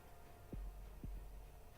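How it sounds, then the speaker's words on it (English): Arknights game heartbeat: two deep, low thumps about half a second apart, over a quiet hum, with no voices. "Oh god, I am hearing the heartbeat."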